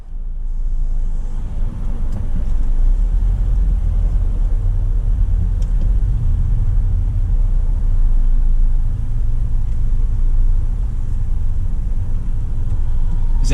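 Steady low road rumble and engine drone from inside a car on the I-35W North freeway as it slows in heavy merging traffic, continuous and close, with no talk.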